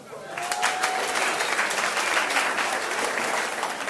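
An audience at a live comedy event in Kenya claps, a dense burst of applause that stays steady and full for several seconds.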